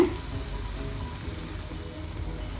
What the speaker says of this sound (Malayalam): ഗോൾഡൻ കളറായി മുരിഞ്ഞിരിക്കുന്ന ഉണ്ണിയപ്പം എല്ലാം എണ്ണയിൽ നിന്ന് എടുത്തു മാറ്റാം